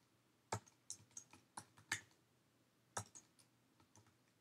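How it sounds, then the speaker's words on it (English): Someone types on a computer keyboard nearby, about a dozen quiet, uneven keystrokes in short bursts with small pauses between them, and no one talks. "we're going to type that like this"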